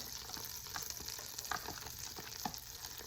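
Pancetta, 3.5 ounces, frying and rendering its fat in melted butter for a meat sauce: a soft continuous sizzle with occasional stirring scrapes and small pops, fairly quiet and without talk.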